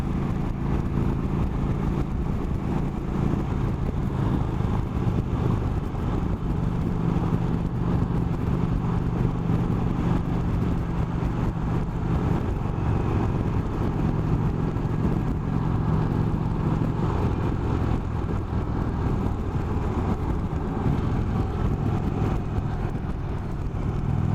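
An Indian Chief Vintage motorcycle cruises on the highway with a steady, loud engine drone and rushing wind, holding an even pace without revving for the whole stretch.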